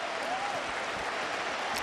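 Crowd at Fenway Park applauding a hit during a Red Sox versus Rangers baseball game, a steady, broad wash of clapping and cheering across the whole stretch, with no clear voice standing out.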